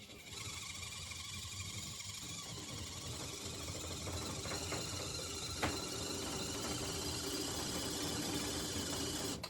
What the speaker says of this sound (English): The tracks aren't getting traction on the wood surface. They're spinning and jumping.